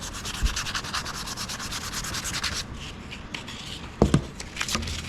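A wooden wand is sanded by hand, giving a steady, close, continuous scratchy rubbing that pauses briefly and ends with a few louder knocks and scuffs.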